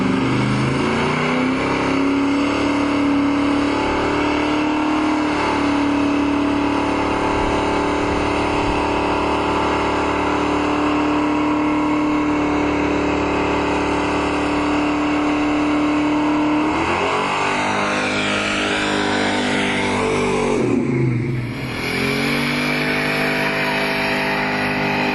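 A big-block 454 LS5 convertible muscle car roars through a loud, sustained burnout, engine held at high steady revs that surge and dip near the end.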